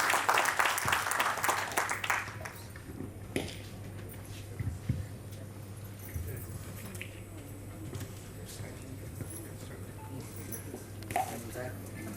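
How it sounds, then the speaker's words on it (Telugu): An audience applauds at a foundation launch event. A short burst of crowd clapping opens, then fades as a speaking voice takes over and continues over low background noise. "మీరందరూ గట్టిగా చప్పట్లు కొడితే వాళ్ళకి అదే పెద్ద ఆహ్వానంగా తీసుకుంటారు"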